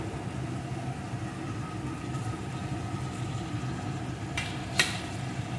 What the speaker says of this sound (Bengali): এখন এর ভিতরে দিয়ে দেবো ভেজে রাখা আলুগুলোকে